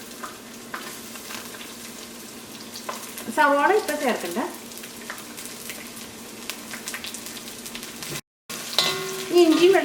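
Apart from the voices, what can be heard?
ginger and garlic frying in oil in a pan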